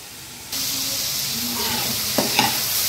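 Vegetables for fried rice cooking in a covered pan on a low flame, a steady close hiss and sizzle that starts abruptly and carries on with a couple of faint clicks.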